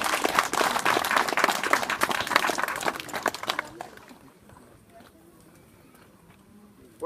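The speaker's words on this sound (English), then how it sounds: "give a big round of applause for our Sovereign Grand Master" Crowd applause at an Orange hall special evening in Benraw, led by Sir Knight's bandsmen for the Sovereign Grand Master, sustained clapping for several seconds before fading to a quiet room.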